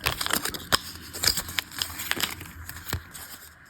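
A plastic packet of Mickey Mouse paper wallpaper stickers being opened by hand, close crinkling and sharp crackling snaps in an irregular run of bursts, fairly quiet with no talk.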